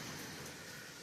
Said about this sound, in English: Just light rain and thunderstorms.